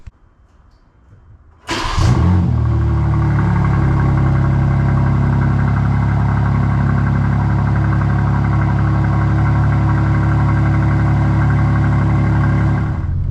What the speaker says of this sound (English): This is probably going to be like a week-old cold start.